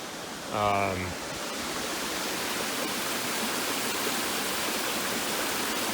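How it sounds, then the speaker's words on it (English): Bard Falls pours in a continuous broad rush of water, steady and fairly close, with a brief voice speaking near the start and nothing else breaking the roar. "According to the MST Guide app, this is Bard Falls."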